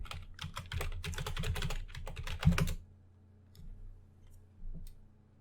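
Computer keyboard typing in quick bursts of key clicks during a coding session, close and fairly loud for about three seconds, followed by a few sparse, fainter clicks.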